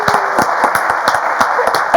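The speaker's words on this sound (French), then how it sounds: "On va l'applaudir très fort." A theatre audience applauds at a café-theatre show, steady dense clapping at moderate loudness with a faint background hum running under it.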